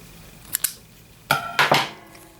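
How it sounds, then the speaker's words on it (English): Scissors snip through crochet yarn after a slip stitch on a daisy granny square: a quick double snip, then a louder sharp pair of cuts close up, with no talking. "make a slip stitch and then cut your yarn"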